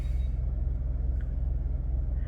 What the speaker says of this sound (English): it has the engine sound to it